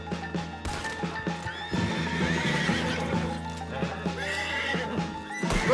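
A horse in Red Dead Redemption 2 neighs and whinnies amid clip-clopping hooves and game ambience, loud and close, with several calls over a few seconds.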